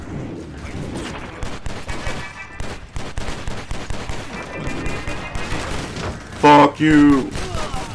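Gunfire in the video game Stranglehold, rapid repeated shots in bursts over game music, with someone shouting and talking over the action.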